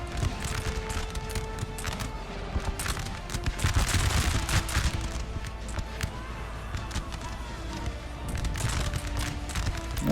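Massed musket volleys in the Total War: Napoleon video game, fought at Waterloo, crackle as ragged clusters of shots over a constant low battle rumble, with a voice talking faintly in places.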